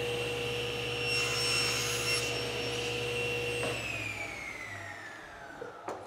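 A table saw runs a cross cut through wood on a cross-cut sled, with a steady high whine and hum that drops in pitch as the blade spins down after the cut, close and without talk.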